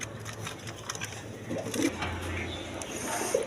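Orange chila pigeons give soft low coos in short broken bursts nearby, with light shuffling and background noise around them.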